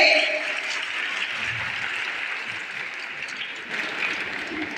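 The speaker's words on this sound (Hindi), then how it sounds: "एक बार जोरदार तालियां उनके लिए बजाएंगे" A large audience at a women's gathering applauds the Indian women's cricket team, with sustained, dense clapping that starts strong and holds steady, fading slightly near the end.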